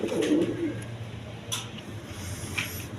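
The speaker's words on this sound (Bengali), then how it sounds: "এইখানে এক পেয়ার কবুতর আছে দেখেন, গোপালগঞ্জের পায়রা বা লাহোরি বলতে পারেন" A caged pair of Lahori pigeons, one male and one female, gives a short burst of low cooing at the start. Quiet background noise and brief clicks follow.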